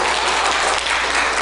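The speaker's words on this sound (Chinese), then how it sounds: "好，大家掌声鼓励。" A short burst of dense, even clapping from an audience gathered for a Bible lesson, loud and close with no pauses.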